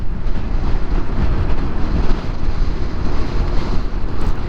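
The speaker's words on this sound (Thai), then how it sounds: "โอ้ลมแรงครับ ลมแรงเอาเนี้ย" Strong wind roars and buffets the microphone in a loud, constant low rumble while riding a Honda Forza scooter on a hot day, with no voices.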